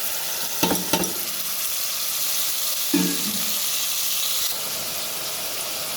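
Tomato, potato and coriander fry in a pan, giving a steady close sizzle with a couple of brief stirring scrapes, no voices over it.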